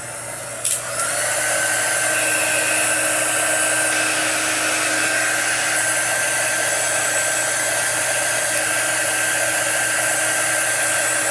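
A hair dryer blows steadily and loudly to dry chalk artwork, a constant whooshing whine that starts after a brief knock and runs on without pause.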